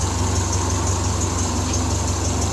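A Triumph Spitfire 1500 engine fitted with performance parts idles steadily nearby in an enclosed space, a constant low rumble with an even pulsing beat and no talk.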